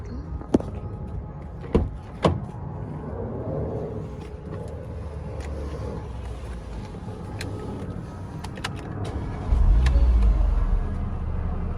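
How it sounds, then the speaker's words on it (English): A 2015-onward Porsche Macan sits idling with a low steady rumble after a new 12V battery is fitted, with a few sharp clicks and knocks early on and a louder low surge near the end. "Now we're just gonna start the car."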